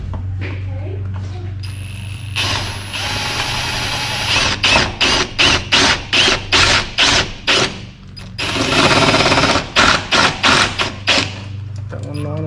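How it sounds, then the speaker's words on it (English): Step drill boring out a hole to 9mm in a 4-inch snorkel body on a Mitsubishi MQ Triton, a loud whining drill run broken into repeated short bursts with brief pauses between, close up with no talking. "Now I'm going to drill out to 9mm with a good old stepper drill."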